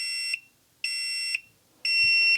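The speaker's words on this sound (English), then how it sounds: "watch how much I can pivot this over before the alarm goes off" A Dovoh self-leveling laser level sounds its out-of-range alarm as a loud, piercing electronic beep in three steady bursts, each about half a second long with short gaps between, and no talking.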